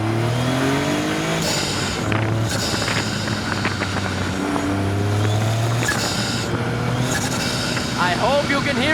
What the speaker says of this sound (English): I hope you can hear those turbos though